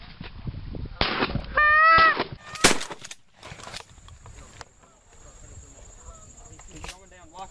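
Shotgun blasts go off during a goose hunt amid honking geese, with several sharp reports clustered early on, calls and rustling outdoors, and people talking throughout.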